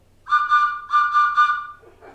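A short, bright whistle sounds in two bursts, the second pulsing three times, clear and close with nothing else around it.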